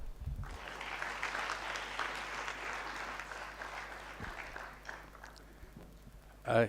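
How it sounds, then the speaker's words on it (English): A room full of people at a national children's assembly meeting in Kenya claps steadily for several seconds, the applause thinning out toward the end before a brief bump of noise. "Can we applaud him in a delegate manner?"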